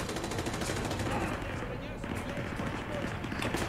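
Dense rapid gunfire from the Modern Warfare 2 Remastered video game, a steady barrage of automatic shots and bursts filling the whole stretch, with game voices mixed in underneath.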